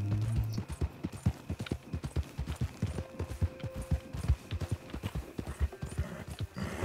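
Horse hooves clip-clopping in the Red Dead Online video game, a steady rapid walking-trot rhythm with a faint whinny, continuous and moderately loud.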